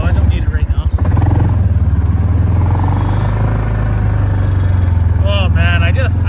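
Off-road vehicle engine on a winter night ride, a steady low droning hum with a revving pulse near the start, loud and close throughout, with a voice speaking briefly over it.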